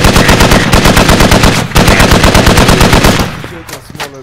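Sustained heavy .50 cal machine gun fire in the Squad video game, loud and close, rapid bursts with a brief pause near the middle, then cutting off into scattered distant shots and fading echoes.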